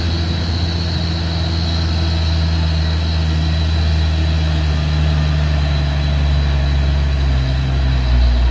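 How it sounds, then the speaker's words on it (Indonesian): A Fuso box truck engine idles and rumbles steadily at close range, a deep constant drone with no breaks throughout. "di sana ada truk box Fuso Factor"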